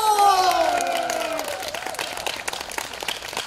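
An outdoor festival audience at a chrysanthemum festival in a town culture plaza bursts into loud, dense applause with scattered cheers, while a sustained musical tone fades out underneath during the first second and a half.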